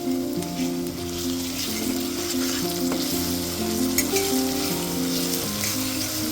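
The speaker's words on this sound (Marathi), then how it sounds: "छान आपल्याला हे लाल होईपर्यंत परतून घ्यायचंय." Ginger-garlic paste fries in a pan as the base for pav bhaji. A continuous, close sizzle and crackle holds steady throughout, with light stirring and a low hum underneath. No one speaks.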